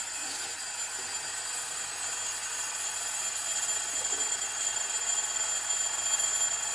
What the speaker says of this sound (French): ici le réveil, on met la cloche à vide